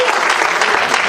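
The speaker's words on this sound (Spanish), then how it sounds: "Dale fuerte ese aplauso a Jesucristo" Steady, loud applause fills a church hall as an evangelical congregation claps together for Jesus Christ, a thick, even wash of hands with no pauses.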